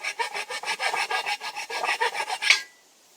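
Steady back-and-forth rasping of a file cutting a small bevel onto a wooden edge, about fifteen even strokes in quick rhythm, close and fairly loud, ending abruptly.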